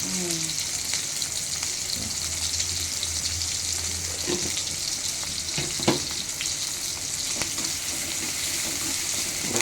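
Ridge gourd curry fries in a pan with salt added, giving a steady, close hiss and sizzle throughout, broken by a few sharp crackles and stirring clatters, with a person speaking quietly at moments.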